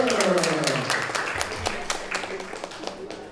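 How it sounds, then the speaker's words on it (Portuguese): Scattered audience clapping at an academic roundtable welcomes a panelist, sharp individual claps in an irregular rhythm that gradually thin out and fade, with a voice speaking over the start. "Aplaude nosso Robertão!"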